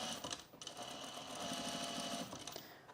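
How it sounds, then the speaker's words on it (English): A sewing machine stitches men's jeans, its motor whirring in a continuous, close, rapid buzz of needle strokes that runs without a break. "I'm going to stitch it down."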